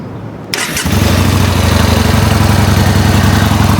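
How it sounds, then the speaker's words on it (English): A 2013 Yamaha Bolt motorcycle engine cranks and catches after a short whir, then settles into a loud, steady, throbbing idle close by, its exhaust quiet at idle. "The exhaust pipe is quiet when idling, but really opens up when you get on the throttle"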